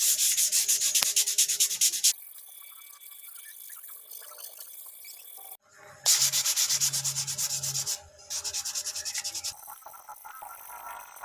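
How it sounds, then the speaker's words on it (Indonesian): Dry sandpaper lightly sanding a painted bird cage in quick back-and-forth bursts, loud and close, with pauses between sanding passes. "Caranya kita amplas ambang-ambang saja, yang penting hasil akhirnya benar-benar rata dan halus."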